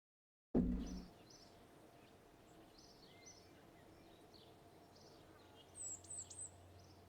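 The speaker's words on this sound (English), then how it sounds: "I can hear the birds." Birds chirp in the ambient soundscape of the Space Center in the video game Kerbal Space Program: faint, scattered tweets over a low steady hum, then a brighter cluster of chirps near the end.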